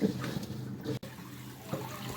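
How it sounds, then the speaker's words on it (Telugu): Tap water runs steadily and faintly while raw chicken feet are rinsed under it, with a soft splashing wash and a brief break near the middle. "ఇక టాప్ కాడ మంచిగా క్లీన్గా కడుక్కోవాలి వీటిని"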